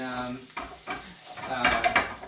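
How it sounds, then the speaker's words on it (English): Finely chopped ginger and garlic sauteing in a pan, a close sizzle with scraping stirs and utensil clinks, a brief voice underneath near the start. "ginger to it. I'm gonna let it saute a little bit"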